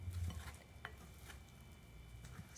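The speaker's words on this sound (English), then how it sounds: "So you mix it like this, and as you can see, it is still lumpy and not very elastic" Apple caramel scroll dough, still lumpy and not very elastic, is mixed by hand in a bowl, making quiet, soft stirring and squishing sounds with a few light taps, close and faint.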